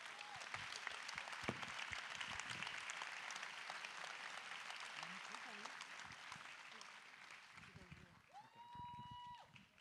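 Sustained audience applause filling Salle Pleyel in Paris at the end of a charity concert held by the Military Governor of Paris, dense even clapping from a large crowd with a few louder claps and a voice briefly cutting through near the end.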